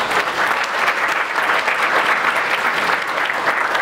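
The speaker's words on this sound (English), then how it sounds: "please give them all a round of applause" Audience members at a city council candidate forum at The Quiet Cannon in Montebello applaud in a loud, dense, sustained burst of clapping throughout.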